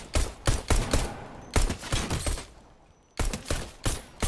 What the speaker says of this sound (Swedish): Ett skott till sådär.